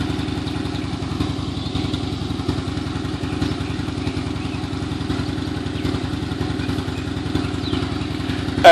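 A Harley-Davidson motorcycle engine runs close by at a steady loping idle, its rhythmic low thumping pulses repeating evenly with a light mechanical clatter on top, no talking heard.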